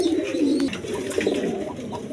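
A pair of colouring golla pigeons, male and female, cooing close by, soft low throaty coos repeated in a loose rhythm over faint background murmur.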